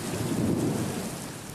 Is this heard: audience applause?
no